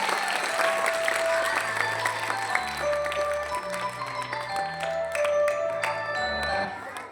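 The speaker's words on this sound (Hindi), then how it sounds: "जोरदार तालियों से सबका स्वागत किया जाए।" Enthusiastic audience applause greets the principal stepping onto the stage at a school welcome ceremony, with steady clapping over sustained music tones throughout.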